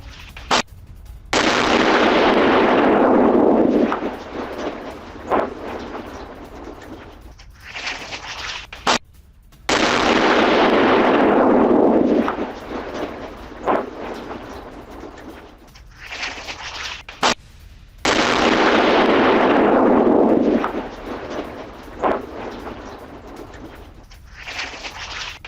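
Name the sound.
missile explosions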